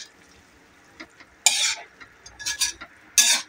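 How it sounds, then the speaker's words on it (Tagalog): A utensil stirs adobong sitaw (string beans) in a frying pan: a few separate scraping and sizzling bursts break a quiet background, close and fairly loud, with faint clinks between them. "Halo-haloin lang."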